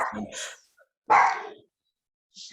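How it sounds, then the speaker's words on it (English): Dog barking indoors close by: two or three sharp, loud barks with short silences between, the last one softer, and no speech over them. "Sorry about my dog."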